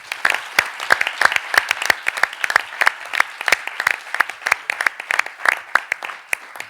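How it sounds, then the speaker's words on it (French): A modest audience claps at the 2018 Lysias Paris I speaking contest final, a loose run of crisp individual claps with no voices on top, holding a fairly even level before thinning slightly at the end. "on va applaudir aussi beaucoup Éléonore."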